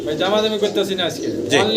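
Pigeons coo in soft, low, rolling calls, close by and fairly loud, repeating throughout.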